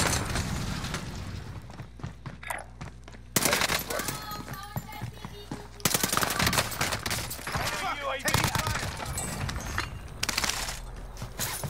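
Gunfire in Call of Duty Warzone at Fortune's Peak on Rebirth: rapid automatic bursts and single shots in dense clusters, loud and close, with a voice talking over the shooting.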